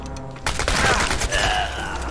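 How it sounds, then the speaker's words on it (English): A shotgun fires in the game Chernobylite, a loud booming blast with a rattling tail of echo and debris, set against low background game ambience. "Yeah, that was a shotgun."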